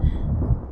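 Thunder from an approaching storm rolls low and heavy, a short deep rumble with a faint hiss that could be rain.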